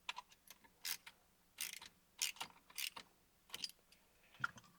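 Bolts on a steering column tool for an OBS Chevy or GMC truck being tightened with a ratchet, giving a close series of quick ratcheting clicks in short bursts with brief pauses between them.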